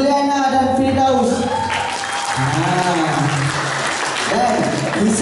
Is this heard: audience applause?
yes